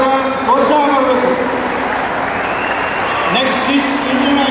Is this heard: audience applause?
yes